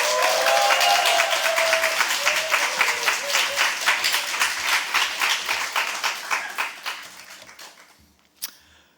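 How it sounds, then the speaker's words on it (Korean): An audience at a Friday church service claps loudly to welcome a guest pastor to the stage, a dense sustained round of applause that gradually thins and fades, ending with one sharp clap. "나오실 때 큰 박수로 우리 환영해 주시면 좋겠습니다"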